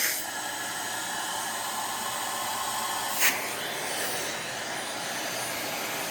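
A Clean Obsessed dual-motor upright commercial vacuum runs at full suction, a steady, loud, close airy roar and whine with one brief click partway through.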